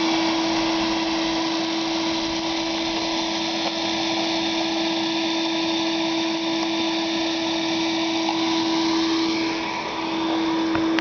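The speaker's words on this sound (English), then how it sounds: "That's some of the dirt and pine needles that we've sucked up." A 5 horsepower outdoor vacuum roars steadily while sucking dirt and pine needles off a driveway, a loud, close, unbroken motor drone with a constant whine and no talking.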